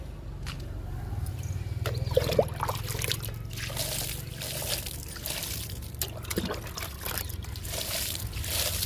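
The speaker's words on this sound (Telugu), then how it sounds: "మల్లె మొక్కకి అంజీరా మొక్కకి కూడా వాటర్ ఇచ్చేద్దాము" Water trickles and pours steadily onto jasmine and fig plants in a garden, with scattered small splashes and clicks over a low background rumble.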